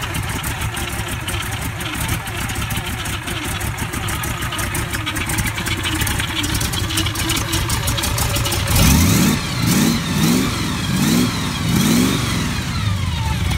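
A car engine with a big camshaft and gear drive starts up and idles loudly with a lumpy, uneven rumble, then throttle blips rise and fall in several quick revs toward the end.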